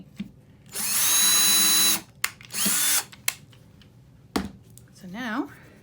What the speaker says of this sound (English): for that, we can now drill the pilot holes for the screws in the exact place